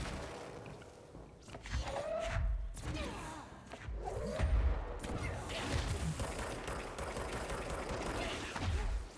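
Gunfire and thuds from combat in the video game Control, irregular bursts of shots and impacts over a low rumbling game soundtrack at moderate volume, with no talk.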